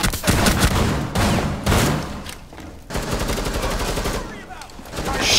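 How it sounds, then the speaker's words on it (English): Dense bursts of automatic gunfire from enemies in the tactical shooter Rainbow Six Siege, loud and close, rattling almost continuously with brief gaps. "Down, injured by enemy fire."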